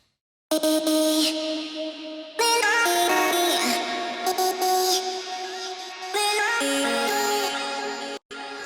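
A bright, chopped guitar sample plays in pitched, stepping melodic fragments with abrupt cuts, sustained tones layered beneath, ending in a short dropout.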